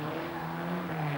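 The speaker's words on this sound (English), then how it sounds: "1600cc Ford engine, working hard now and been beautifully driven, really under control" A Lotus 7 with a 1600cc Ford engine works hard at a classic autotest in Northern Ireland, its engine a steady loud drone held at high revs, close by, with no pauses.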